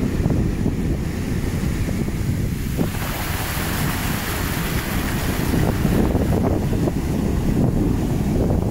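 Surf washing onto the shore with strong wind buffeting the microphone, a loud continuous roar of waves and gusts at a coastal fishing spot in North Haven, no voices.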